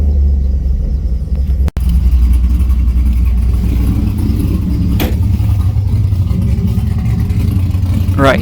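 A 6.0L V8 in a WS6 idles with a heavy, low rumble, the loping uneven beat of a cammed engine, loud and close; a brief dropout occurs early and a faint voice sits under it.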